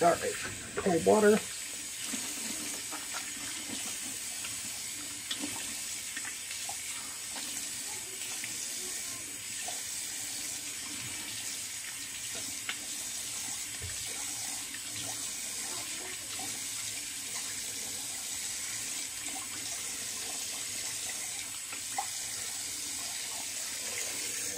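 A tap runs into a sink during a wet shave, giving a steady, even hiss of flowing water that continues throughout after a brief clatter at the start.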